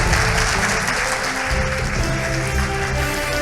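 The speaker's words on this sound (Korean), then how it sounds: "멀리 파주에서 와주신 교수님께 다시 한번 박수 부탁드립니다" Audience applause fills a hall at the close of a lecture at a Records Day ceremony, steady dense clapping throughout at a loud, near level.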